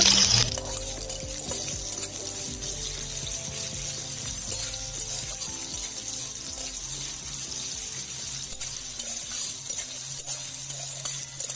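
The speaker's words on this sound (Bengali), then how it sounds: "একটা বড় সাইজ পেঁয়াজ আমি সরু সরু করে কেটে নিয়েছি, দিয়ে দিলাম, ভেজে নেব" Thinly sliced onion frying in hot oil in a pan with cumin seeds and a bay leaf, a steady broadband sizzle with faint stirring clinks running the whole time, no talk.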